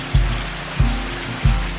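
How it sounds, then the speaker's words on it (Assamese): Rain falls outside a balcony, a steady close wash of noise with three dull, evenly spaced knocks like heavy drops landing nearby. "বৰষুণ দি আছে"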